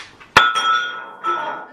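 A half-liter mug knocked off the edge of a table lands with one sharp, loud glassy clink that rings briefly without breaking, followed by faint rustling and a voice in the background.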